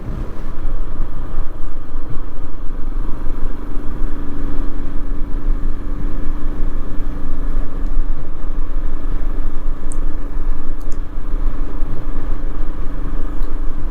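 A Royal Enfield Himalayan motorcycle cruising at an easy pace on a mountain road, with a steady, loud engine drone mixed with wind rumble throughout, and no talking.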